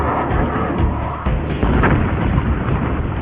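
US tanks firing in Iraq War combat, heavy booms and explosions rumbling continuously and loudly through the whole stretch, with overlapping blasts and no clear gaps between them.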